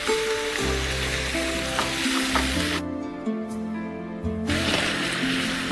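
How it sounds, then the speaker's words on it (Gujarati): Tomato puree made from four blanched medium tomatoes hits hot oil in a pan with a loud, steady sizzle and stirring scrapes, dropping briefly quieter midway before the frying hiss returns. "તેલ છૂટી જાય એટલે એમાં ટામેટાની પ્યુરી એડ કરવાની છે."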